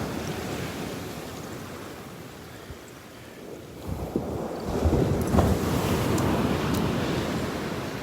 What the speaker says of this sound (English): Listen to those waves. Pounding. Pounding.